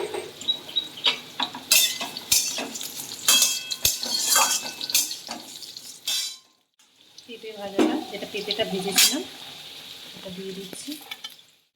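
Mixed vegetables fry and sizzle in a pan for a Bengali panchmishali sabzi, with a spoon scraping and clattering against the metal in repeated strokes; a short quiet gap comes midway before the sizzling and stirring resume.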